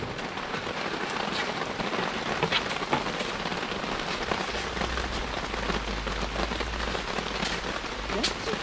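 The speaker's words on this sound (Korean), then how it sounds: "비가 오니까 땅이 안 젖으라고" Steady rain patters on a surface nearby at a valley campsite in Gapyeong, with scattered louder drops and a low hum joining partway through.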